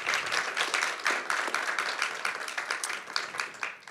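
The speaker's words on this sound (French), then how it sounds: "Je vous demande de les applaudir tout d'abord." An audience at a roundtable discussion applauds the panel speakers, a dense, even patter of many hands clapping for a few seconds at moderate distance.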